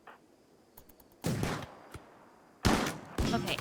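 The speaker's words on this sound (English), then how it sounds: "Shooting?" Video game gunfire comes in short loud bursts separated by quieter gaps, with a single faint pop between them, over low background noise.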